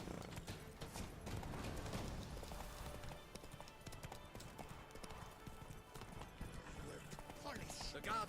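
A horse trots in The Witcher 3: Wild Hunt, soft rhythmic hoofbeats with faint creaking tack, fairly quiet under game ambience and music.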